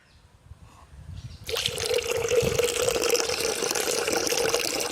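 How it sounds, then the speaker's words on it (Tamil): Milk pours into a container for a pipe ice mix, a steady trickling, splashing stream that starts after about a second and a half of near quiet and runs on, close and fairly loud. "அடுத்த கலர் கலக்கிறதுக்கு பால் ஊற்றிக்கலாம்."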